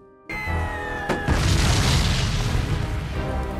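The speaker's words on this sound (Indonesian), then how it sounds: "Suasana tembakan, ledakan terdengar begitu mengerikan." A sudden deep boom bursts in after a moment of silence, followed by rumbling blasts and roaring debris, loud and chaotic World War I battlefield explosions.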